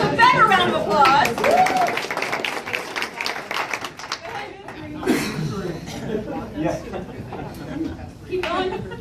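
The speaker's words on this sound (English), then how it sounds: "Give yourself a better round of applause." A seminar audience bursts into a few seconds of dense clapping mixed with laughter and chatter, then the applause thins into scattered murmurs, coughs and a last brief flurry.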